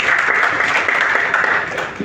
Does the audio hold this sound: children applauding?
yes